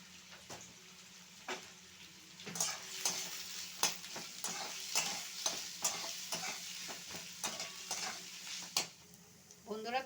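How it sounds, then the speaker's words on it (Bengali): Onions and garlic paste fry in a pan with a steady sizzle, broken by repeated scraping and stirring strokes of a utensil against the pan, close and clear, with no talk. "একসাথে দিয়ে আমি ভেজে নিচ্ছি ভালোভাবে লাল লাল করে"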